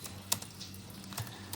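Computer keyboard keys being typed on, a few soft, scattered clicks close by with a brief tap pattern and faint background hum, no talking.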